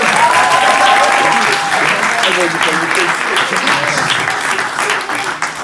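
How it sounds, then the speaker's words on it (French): A church family service congregation applauds, a loud, dense burst of clapping that starts strong and slowly thins, with voices and cheering mixed through it. "Applaudissons-le, applaudissons-le."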